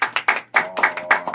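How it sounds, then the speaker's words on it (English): Hand claps during a radio station interview, a short run of about ten sharp, close claps in uneven bursts with brief gaps, no voices over them. "So get to clap."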